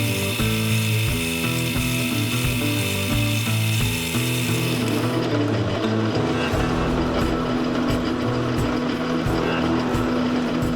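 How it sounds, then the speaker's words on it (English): A 3/32 inch bit drilling through a Damascus Bowie knife handle, a steady, loud mechanical whir with a rattling, ratchet-like buzz throughout, the pitch shifting partway through, with no talking. "I'm gonna go ahead and finish drilling through there with the 3/32 inch bit"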